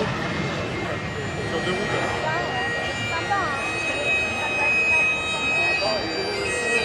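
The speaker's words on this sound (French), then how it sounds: "Le voilà le Morane 760 Paris, décollage." Morane-Saulnier MS.760 Paris jet taking off at an air show, a steady engine roar with a rising and falling whine, heard at a distance under people talking over it.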